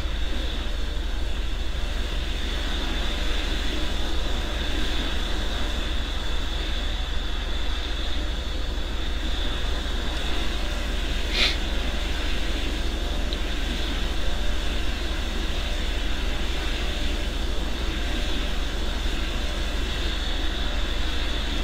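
A Boeing 777 airliner on approach in a flight simulator game gives off a steady, loud engine and cabin drone with a broad rumble and a constant whine that barely changes.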